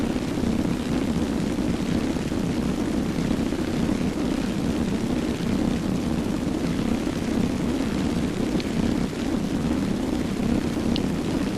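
Steady, dense drone of B-17 bomber engines in a World War II flight video game, a continuous loud propeller roar with no breaks and no talk.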